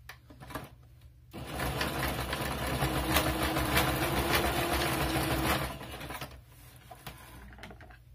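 Sewing machine stitching a junk journal, a fast buzzing mechanical whir that starts abruptly, runs steadily for several seconds, then stops, leaving faint background hum.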